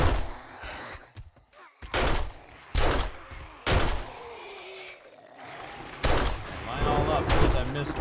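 Gunfire in the survival game 7 Days to Die: a handful of separate loud, booming shots spaced a second or so apart, with a voice talking between them.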